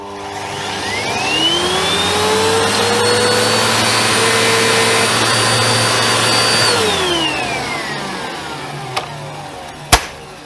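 A Vax Power VX2 upright vacuum cleaner spins up with a rising whine, runs at a loud steady roar for several seconds, then winds down, followed by a couple of sharp clicks.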